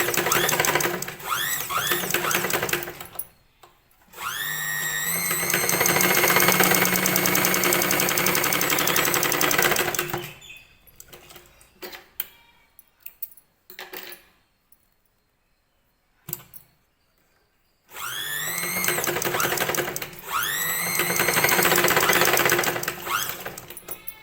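A sewing machine stitches a blouse in long, loud, steady runs of rapid mechanical stitching. Quiet gaps and brief handling noises separate the runs.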